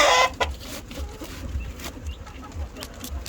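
Layer chickens cluck softly at close range, with scattered short clucks over a low, steady background rumble.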